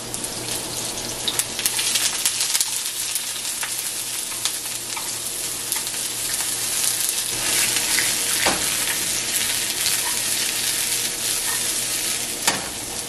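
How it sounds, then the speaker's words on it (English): Onions sauteing in a pan until translucent make a steady bright sizzle throughout, with occasional stirring scrapes and clicks breaking through the continuous frying hiss. "You want to first saute onions till translucent."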